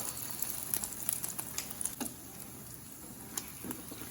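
Scrambled eggs mixed with bacon cook on a Blackstone 17-inch E-Series electric griddle, giving a quiet, crackling sizzle with scattered small pops and ticks.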